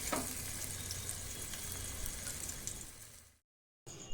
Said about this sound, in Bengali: কড়াইয়ের তেল গরম হয়ে গেছে, এবার তালের শাঁসের বড়াগুলো এভাবে আমি একে একে